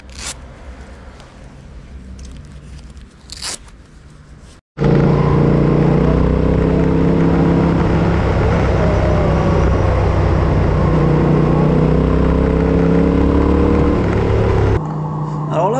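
A Yamaha Ténéré 700 motorcycle rides along a forest road, its steady engine drone loud and close under heavy wind rush, after a few seconds of quieter handling noise at the start.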